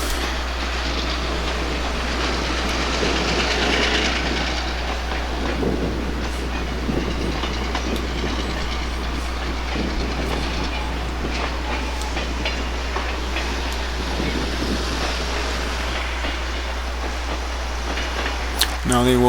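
Eastbound Conrail freight train in 1991, a loud, continuous rumble of rolling freight cars with clicking wheels and occasional squeals, passing close by under a steady low hum.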